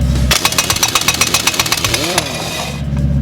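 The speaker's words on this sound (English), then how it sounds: "this is on the impact's lowest setting" A giant 1-inch drive industrial air impact wrench on its lowest setting hammers at a bolt, a loud rapid run of metallic blows lasting a couple of seconds before the hiss of air trails off.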